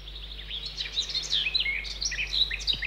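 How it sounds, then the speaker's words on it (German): Several forest birds sing at once, with bright chirps and warbling phrases overlapping continuously at moderate distance over a quiet woodland background, no voices. "Die Geräuschwelt der Natur ist meistens vom Gesang der Vögel bestimmt."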